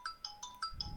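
A mobile phone rings with an electronic ringtone, a quick melodic pattern of bright beeping tones repeating in short pulses, heard close up without talk.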